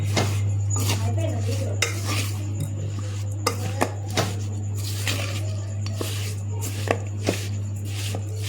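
Spoon or hand stirring fried bitter gourd pieces with spice powder and salt in a metal bowl for pickle, giving repeated scraping and clinking strokes at an uneven rhythm over a steady low hum.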